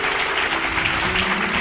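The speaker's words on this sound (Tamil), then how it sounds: "கைத்தட்டுக்கு ஒரு ஆமென்" A congregation at a Tamil Sunday church service claps in a loud, dense, continuous round of applause filling the room.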